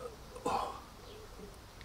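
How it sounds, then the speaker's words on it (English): A man lets out a single short, soft burp outdoors on an allotment plot, a brief low gulp against quiet background hiss. "Excuse me, folks, I need to burp."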